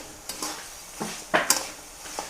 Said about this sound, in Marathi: आता ह्या लहाया आपल्याला हलवून घ्यायच्यात बारीक गॅसवर ठेवायच्यात